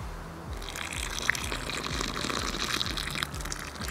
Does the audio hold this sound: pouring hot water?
yes